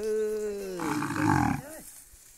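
A water buffalo bellows close by, one long drawn-out low call that rises into a rough, louder roar before breaking off, with no talking.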